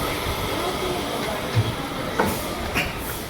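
Station ambience at Chengannur railway station, Kerala, with a low rumbling train, scattered clanks and a few brief squeals, under faint distant voices.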